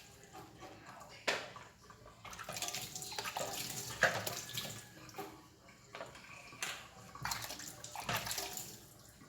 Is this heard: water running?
yes